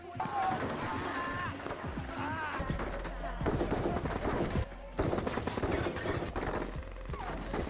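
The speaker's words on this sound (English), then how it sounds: "Santiago cocks his weapon and unleashes a powerful blast that tears through the hideout of Lorea's associates" Gunfire erupts during a tense film shootout at a hideout, with sharp, loud bursts and a repeated blast mixed into a dense, layered movie soundtrack.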